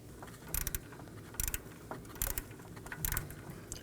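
Ratchet snugging down the bolts of a high pressure fuel pump on a 2018-2024 Chevrolet Equinox 1.5L L4, heard as four short bursts of quick clicking, close and fairly loud, separated by brief pauses with low mechanical background.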